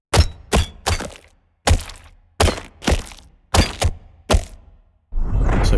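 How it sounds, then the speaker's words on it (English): Processed hit impacts layered with distortion, compression, transient shaping, EQ and a touch of convolution space: eight heavy, punchy thuds in irregular succession, each with a short roomy tail, ending in a sustained loud rumble. "the hit group sounds like this all together"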